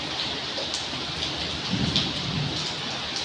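Rain falls in a steady, even patter and hiss throughout, with a few louder droplet hits and no talking.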